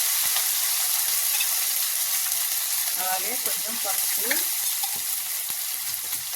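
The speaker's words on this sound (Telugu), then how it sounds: "అల్లం వెల్లుల్లి పేస్ట్ ఫ్రై చేద్దాం" Ginger garlic paste fries with onions in hot oil, giving a steady, close sizzling hiss throughout while a voice speaks briefly over it.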